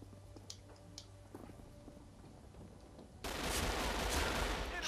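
Rapid gunfire in the video game Arctic Combat bursts out suddenly near the end of a free-for-all match, loud and dense after a quieter stretch of faint clicks and shots.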